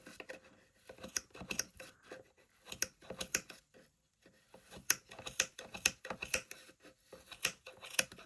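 Scissors snip through yarn on a board while a koi spawning mop is made, a rapid series of close, crisp cuts in irregular bursts with short pauses, no talking.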